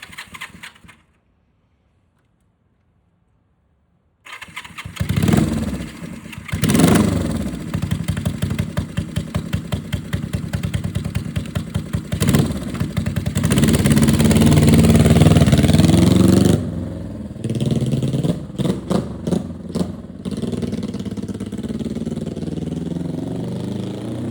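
An old 50-year-old Honda motorcycle engine coughs and sputters to life after a brief silence, then idles roughly before revving up hard several times, loud and close.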